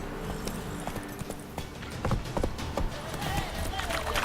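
Hooves of a horse galloping in the video game The Witcher 3 clop in a fast, irregular rhythm close by, beating over a dense background of game ambience and music.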